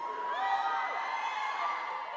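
A packed audience at a PAX West convention panel keeps up a sustained roar of cheering and high whoops, fairly loud and even throughout with no talk over it.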